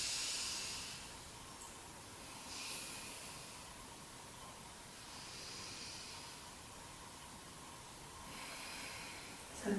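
Alternate nostril breathing during Nadi Shodhana yoga practice: soft, slow airy inhales and exhales through the nose in long, even waves, heard close and faint, with no talk.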